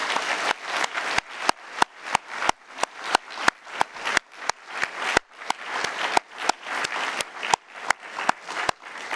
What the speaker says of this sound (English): And I'd like to invite you for a round of applause for them and for the program.